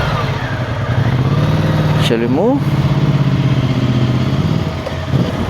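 Motorcycle engines idle and rumble steadily close by as four bikes get ready to set off from Indiranagar, with someone talking over the engine noise throughout.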